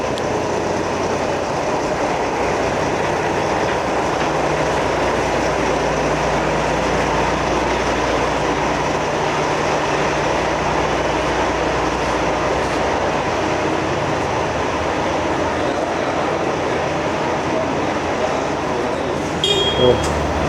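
A remote-controlled scoop tram runs inside a silver and gold mine, a loud, steady mechanical roar and rumble that holds unbroken for about twenty seconds, with a brief clatter at the very end.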